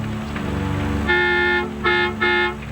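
A car horn blares in a traffic situation with police braking ahead: one long honk followed by two shorter blasts in quick succession, loud and close over a low engine rumble.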